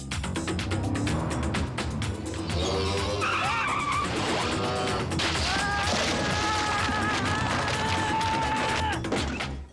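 Tires squeal in long, wavering screeches over a loud, roaring car, with traffic noise and faint voices mixed in.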